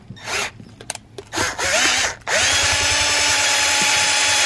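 A power drill whirs in short bursts, then runs in one long steady spin during work on a V6 Mustang getting a 302 V8 swap, loud and close with no talking.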